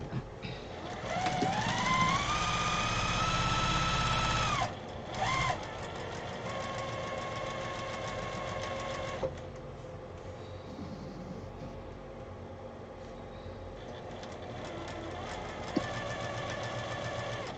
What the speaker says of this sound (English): We'll sew this up while we have our regular foot on.